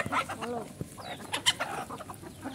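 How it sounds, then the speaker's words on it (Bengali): Desi chickens cluck and call in a backyard poultry farm, with several short, close clucks and squawks scattered through the clip over a faint outdoor background. "াহান আলী সে একটা ফার্ম করেছে দেশি মুরগির, আর এই দেশি মুরগির ফার্ম করে প্রায় 20 থেকে 25টি করে ডিম প্রতিদিন আসে।"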